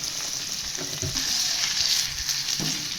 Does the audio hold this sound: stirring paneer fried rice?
yes